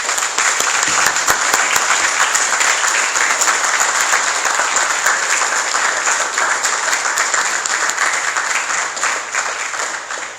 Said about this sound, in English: please give the excellent candidates a round of applause